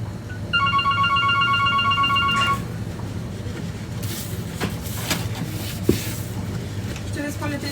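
A telephone rings in a sushi restaurant with a few repeated electronic trills, followed by kitchen clatter and background hum of the room.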